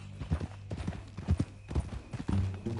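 Horse hooves clip-clop in the video game Red Dead Redemption 2, a steady rhythmic run of close, distinct hoof strikes at a walking pace, with faint murmured talk underneath.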